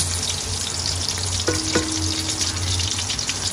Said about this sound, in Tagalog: Yung itlog guys. Niluluto na.